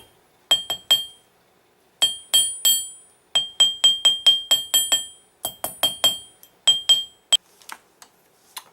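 A small hammer strikes a hot silver pendant laid on a steel plate, sending out bright, ringing metallic taps in quick uneven bursts. Clusters of blows are separated by short pauses, close and crisp, with no voices.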